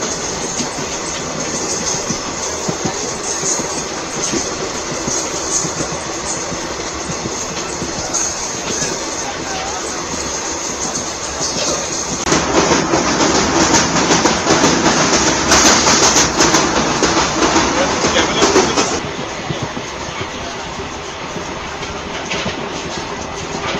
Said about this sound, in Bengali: ট্রেন পুরো টাইমে ছেড়ে দিয়েছে।